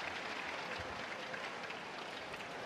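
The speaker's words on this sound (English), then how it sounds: "And a muted applause as Wang Chi Lin and Lee Chia-Sin leave the court." Subdued applause from a badminton crowd at a mixed doubles final, a steady soft patter of clapping that fills the whole stretch at a low level with no voices over it.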